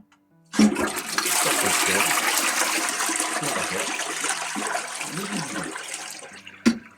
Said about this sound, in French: Et ensuite on va pouvoir tester directement en appuyant sur la chasse d'eau.